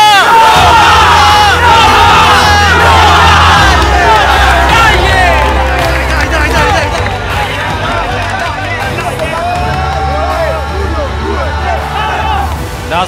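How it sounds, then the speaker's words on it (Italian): Roma supporters massed in a stadium at a Roma vs Parma Youtuber League match, singing the club anthem together: a loud, roaring wall of many voices chanting continuously for over ten seconds, with crowd noise all around. "ascoltare fino in fondo l'inno della Roma con la squadra giallorossa che si carica sotto i propri tifosi"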